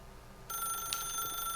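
A telephone rings in the video game The Stanley Parable, starting abruptly with a steady, bright electronic trill that continues alone and fairly loud.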